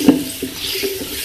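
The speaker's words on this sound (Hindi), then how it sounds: "हम थोड़ा सा पानी ऐड करेंगे," Water splashes briefly into a pot of spiced chana pulao with chickpeas, a short close pour with light stirring clatter at home-kitchen level, no voices.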